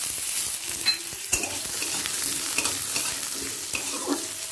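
Finely diced potatoes frying in hot oil with five-spice seeds, a steady sizzle with occasional stirring scrapes and clinks close by, no voices.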